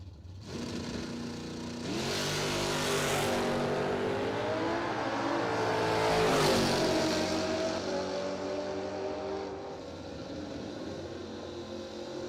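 A drag race launch, a motorcycle against a car, roars as engines rev and accelerate away, the loud blended whine swelling then fading steadily into the distance.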